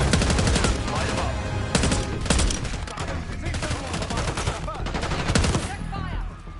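Dense automatic gunfire from the video game Call of Duty: Black Ops 6 rattles in rapid bursts with overlapping shots and impacts, loud and sustained throughout, with shouted voices mixed in.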